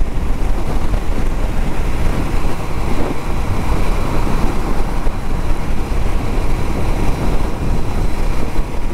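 Riding a Royal Enfield Interceptor 650 motorcycle on a highway gives a loud, unbroken roar of wind buffeting and road noise with a low rumble beneath, holding steady throughout with no talking.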